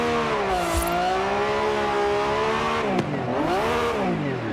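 Lamborghini Revuelto in Forza Horizon 5 running in petrol mode below 3,000 RPM, a loud continuous engine drone with its pitch rising, dipping and rising again, and one brief sharp click partway through.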